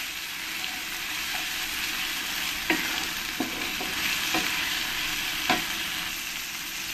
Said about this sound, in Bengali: টমেটোটা দিয়ে দেবো। দিয়ে ভালো করে একবার আমি পেঁয়াজের সঙ্গে মিশিয়ে নেব।